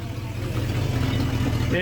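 A steady, low rumble of a 1976 Ford F-250's 390 FE V8 engine idling at operating temperature, continuous and close with no revving.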